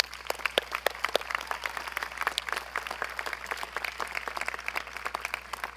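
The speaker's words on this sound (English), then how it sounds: "Let's give him a round of applause." Dense, lively applause from a commencement audience at a 2024 graduation ceremony honoring a retiring staff member, steady sharp claps continuing throughout at moderate loudness.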